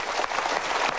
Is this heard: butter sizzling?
no